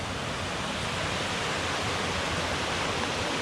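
A stream in a New Zealand forest rushes steadily, a dense, constant wash of flowing water heard close up and alone.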